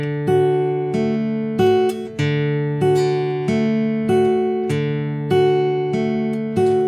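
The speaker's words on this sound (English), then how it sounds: "And then for the 4th string, we'll hit the 4th and 3rd strings." Fingerstyle guitar with steady plucked bass notes alternating between the 4th and 3rd strings beneath ringing higher notes, each pluck decaying before the next in an even, repeating rhythm, clear and alone.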